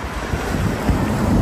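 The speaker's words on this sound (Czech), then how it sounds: "On je dneska hodně velký vítr zase" Strong outdoor wind buffets the microphone with loud, continuous low rumbling and roaring, steady throughout and with no voices.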